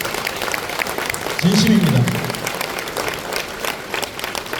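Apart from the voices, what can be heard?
audience applause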